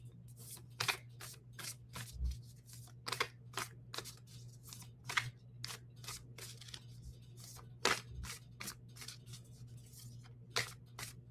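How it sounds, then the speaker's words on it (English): A deck of cards shuffled slowly during a live card reading: a steady run of crisp riffling snaps and flicks, close and fairly quiet, with a low steady hum beneath. "Sorry, I'm a slow shuffler."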